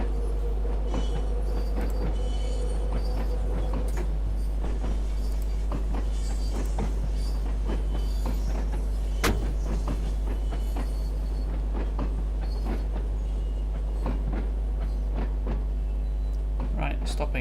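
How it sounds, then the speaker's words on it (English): A train rolls along rails in Train Sim World 2 with a constant deep rumble, frequent clicks and clatters from the wheels over track joints, and a loud steady drone throughout. "I'm driving a train, this is my happy place."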